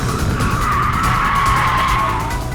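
A 2015 BMW i8 with a 1.5-litre turbocharged 3-cylinder petrol engine at the back is driven hard, giving a loud continuous skid-like tire and engine roar with a rising whine.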